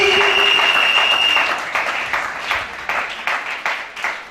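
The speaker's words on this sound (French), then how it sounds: "Acclame." An audience at a church teaching service claps in a brief burst of applause, loud at first, then settling into scattered rhythmic claps as it fades. A sustained tone sounds during the first second and a half.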